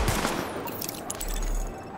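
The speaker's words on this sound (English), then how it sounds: "Open fire at the highlighted targets." Sidearm pistol shots fired at highlighted targets in The Division, a dense run of close gunfire cracks filling the whole two seconds with no talk.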